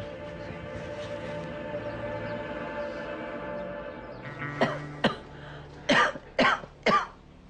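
Several sharp coughs in a short burst, heard over a steady droning background hum.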